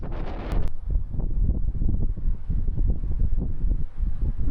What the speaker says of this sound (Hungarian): Nagyon szeles itt fent a Citadellán, de ugye ez elvárható.